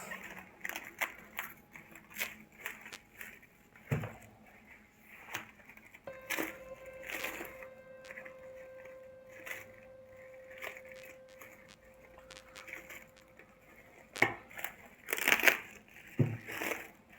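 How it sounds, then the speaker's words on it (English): Packaging around a book order is unwrapped up close, with intermittent crinkling, tearing and crushing sounds and a few sharper rustles near the end. "now let's unwrap this"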